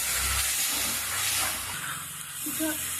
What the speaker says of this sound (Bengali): এখন একটু জল দিয়ে দেবো সামান্য সেদ্ধ হওয়ার জন্য চিকেনটা